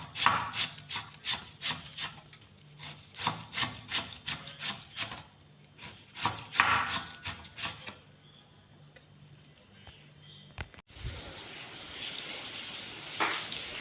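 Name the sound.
cutting afang leaves with a sharp knife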